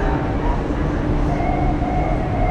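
Steady rumble and hum of a train at Nagoya Station, Japan, a continuous low roar with faint tonal whine, no clear voices.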